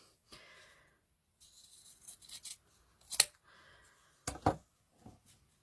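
Fabric scissors snip through ribbon for hair bows in a quiet room, a handful of short crisp cuts spaced irregularly and heard close up.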